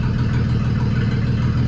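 A 1938 Dodge car engine, running again after more than 40 years, idles with a steady, close, low rumble and no change in pace.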